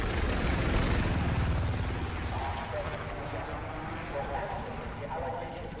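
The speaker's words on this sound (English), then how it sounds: "That helo does not bode well." Helicopter in the Battlefield 4 campaign on PS4, with a heavy rotor rumble and chop that is loudest at first and then eases into a steady drone under muffled voices.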